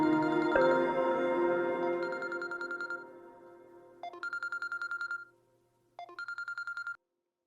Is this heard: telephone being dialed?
yes